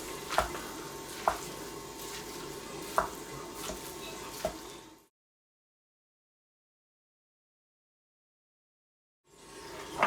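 A spoon stirs lasagna meat filling seasoned with garlic salt in a hot pan, giving a soft sizzle with a few scraping knocks. The sound stops for several seconds and then the sizzling returns.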